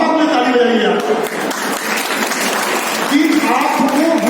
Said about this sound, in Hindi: आप अपने माँ बाप में ताली बजाइए